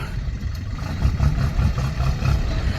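A Kubota L4018 SP tractor with a three-cylinder direct-injection diesel engine and four-wheel drive runs steadily nearby, a low, even rumble that thickens slightly partway through and carries on without speech.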